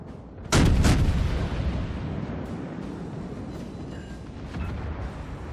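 Naval gunfire from warships in the game World of Warships, one heavy boom that rumbles and then trails off into a long, low roar of battle noise.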